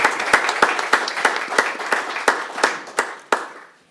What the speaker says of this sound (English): we're going to applaud for him anyway